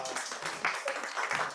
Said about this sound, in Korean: 우리 임원 회장 나올 때 박수 한번 주세요.